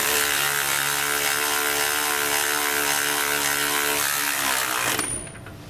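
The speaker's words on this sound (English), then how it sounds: "We're going to use a 3/4 inch socket and wrench to do so." A 3/4 inch socket and wrench tighten steering stabilizer hardware on a Newmar motorhome, giving a loud, continuous close-up buzzing whir that holds steady for about five seconds, then cuts off abruptly.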